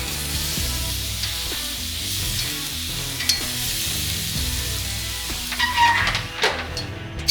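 Elk tenderloin medallions sizzling in a pan, a close, steady frying hiss with occasional pops and clinks, swelling near the end as the pieces are turned.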